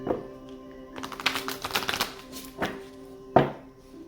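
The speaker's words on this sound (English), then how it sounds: "One last shuffle." Tarot cards being shuffled by hand, a few dense bursts of riffling and slapping cards with short pauses between, close and fairly quiet, ending in a sharper snap.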